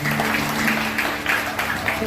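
A church congregation at GKI Betania Wasior claps together in loud, rhythmic bursts over a sustained musical tone, with a voice speaking alongside.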